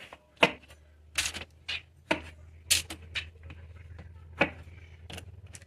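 Knife cutting vegetables in half on a board for a sheet pan dinner, a series of sharp, separate chops and taps spaced irregularly, close and fairly quiet over a low steady hum.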